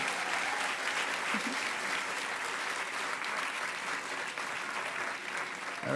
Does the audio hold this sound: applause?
yes